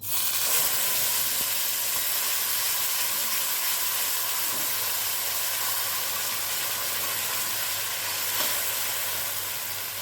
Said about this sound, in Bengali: এখন আমি বেটে রাখা পেঁয়াজ, টমেটো, কাঁচা লঙ্কা সব একসঙ্গে তেলের মধ্যে দিয়ে দিচ্ছি